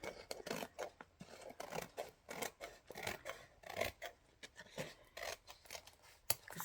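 Scissors cutting paper for a loaded envelope pocket journal page, a steady run of close, soft snipping strokes in a regular rhythm with brief pauses, and no talking.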